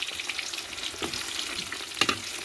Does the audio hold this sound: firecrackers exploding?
no